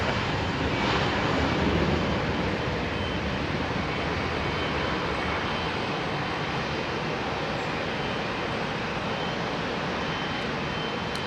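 At London Heathrow Airport, a Boeing 747 taxis away from the southern runway, giving off a steady, broad, roaring jet engine whine and rush that holds at an even level throughout without pauses.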